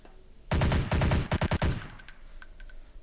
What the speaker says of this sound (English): The gunshot sound effect is the MP5 sound effect from Counter-Strike Source.